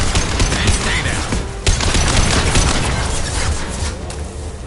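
Gunfire from a firefight in Mass Effect 2, dense bursts of automatic shots and impacts filling the whole stretch with loud, continuous crackle, one sharp report standing out near the start.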